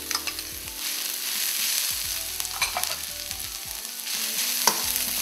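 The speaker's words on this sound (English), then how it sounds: "You don't want it to be overcooked, so just fry for a few seconds" Carrots and green peas frying in oil for a samosa filling, a crisp close sizzle broken by repeated knocks and scrapes of a spoon stirring the pan, no voices.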